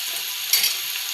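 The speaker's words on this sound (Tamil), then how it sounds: "இப்போ கருவேப்பிலை போட்டுக்கலாம்." Curry leaves hit hot oil in a frying pan with softened onions, giving a bright continuous sizzle that jumps to a sharp crackling burst midway, close and fairly loud with no talk.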